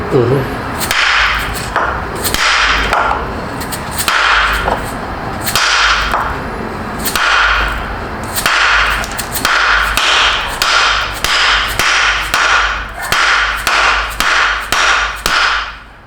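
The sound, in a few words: hammer striking wood blocks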